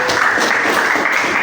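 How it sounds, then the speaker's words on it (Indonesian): A class of eighth-grade students in an Islamic religious education lesson claps hands together, a loud, dense burst of clapping from a group that continues evenly throughout. "Tepuk tangan."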